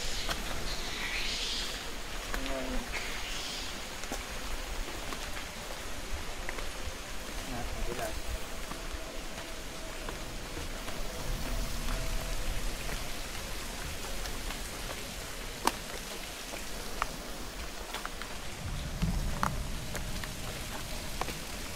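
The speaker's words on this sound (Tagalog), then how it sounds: "Huwag na pong umulan, okay na po ito." Steady rain falls during a hike in KL East Park, a dense continuous hiss that runs the whole way through with a few faint voices now and then.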